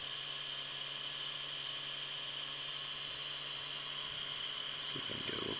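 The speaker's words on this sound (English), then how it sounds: "I'm not sure if you can hear that, but the rotor is winding up" A Bedini motor's rotor spins, giving off a faint, steady, even mechanical whine with a constant hum underneath and a brief clatter of handling noise near the end.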